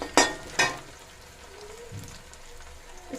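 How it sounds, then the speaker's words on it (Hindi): Green chillies frying in a pan, two sharp crackling bursts of sizzle at the start, then a quieter ongoing sizzle and faint stirring, close by with no voices. "ये हरी मिर्च थोड़ी देर पकाते हैं।"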